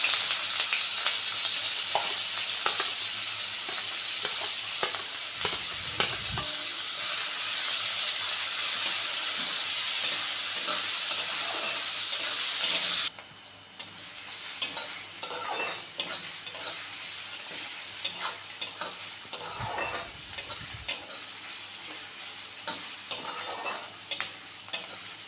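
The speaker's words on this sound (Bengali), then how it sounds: "পেঁয়াজটা হালকা ভাজা হয়ে এসছে" Chopped onion frying in a pan for aloo paratha, a steady loud sizzle with occasional stirring scrapes, dropping to softer crackling partway through, no talk.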